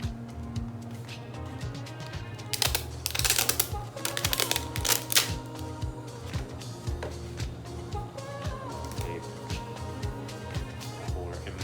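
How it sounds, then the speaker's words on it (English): Adhesive tape is pulled off its roll in bursts of dense, ratcheting crackle, loudest in the middle, followed by quieter handling clicks close to the microphone. "So I'm going to take some more of my tape."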